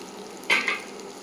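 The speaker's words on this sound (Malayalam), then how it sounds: "ഈ വറുത്ത് വെച്ചിരിക്കുന്ന ചുണ്ടങ്ങ കൂടി ഇട്ട് ചെറുതായി ഒന്ന് വഴറ്റിയിട്ട്" Fried turkey berries go into a hot pan and are stirred, giving a short, bright sizzling burst followed by a smaller second hiss, close and alone over low background.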